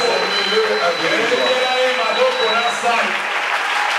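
A church congregation applauds and acclaims together in a steady, loud, sustained wash of clapping and cheering voices with no break, at a dedication closing service with a bishop.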